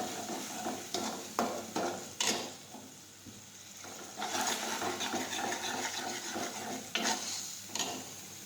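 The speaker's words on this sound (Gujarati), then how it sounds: "પીસેલા કાંદા નાખીશું. હવે સાતળી દઈશું." Ground onions sautéing in a pan for an okra curry, a soft continuous sizzle broken by repeated scraping stirs of a spoon, close but fairly quiet, with no talking.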